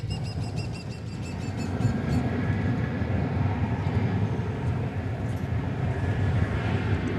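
Embraer 175 airliner arriving at DFW Airport in warm, breezy weather, a steady distant rumble of jet engine noise that holds evenly throughout, broad and low with faint higher whine, no voices.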